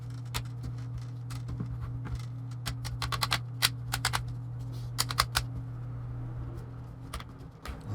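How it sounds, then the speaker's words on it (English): Laptop screen bezel on a Lenovo IdeaPad 3 Chromebook being snapped back into place after an LCD replacement: a scattered series of sharp plastic clicks and snaps close up, irregular and clustered, over a steady low electrical hum. "I'm just going to snap this back in place"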